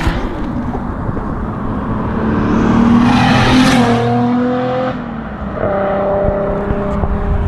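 A 500HP Nissan Skyline R32 GTR approaches on a race track and roars past, its engine swelling to a peak and then fading, with gear changes and a renewed pull as it drives away; no talking.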